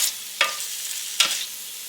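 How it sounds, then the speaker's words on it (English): Thawed peppers saute in a pan, a soft steady sizzle broken by two sharp stirring scrapes, close and alone with no talking. "I'm going to let them saute up just a little bit"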